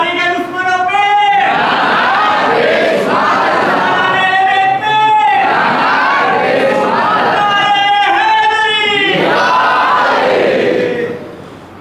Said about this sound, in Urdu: یہ مجلسوں میں نعرے کیوں لگاتے ہیں آپ؟